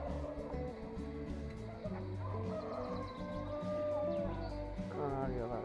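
Chickens and other fowl clucking and calling in an aviary at a wildlife park in Kocaeli, busy overlapping calls close by over a steady low hum, with a few voices mixed in.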